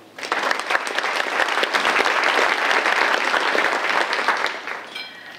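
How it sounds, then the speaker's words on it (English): An awards dinner audience claps in sustained, dense applause that swells quickly, holds steady for several seconds, then fades near the end. "Another round of applause."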